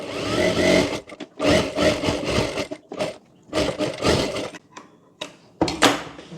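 A sewing machine stitches a blouse neckline in bursts of loud, close mechanical whirring, separated by short pauses as the fabric is repositioned.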